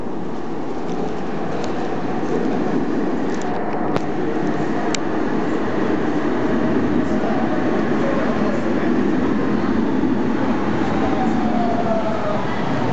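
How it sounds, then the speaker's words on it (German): A Cologne line 9 tram pulls into a stop with a steady, loud rumble and rolling rail noise, plus faint squeals and clicks and a few distant voices under it. "Einfahrt und Ansage, eine Einfahrt der Linie 9."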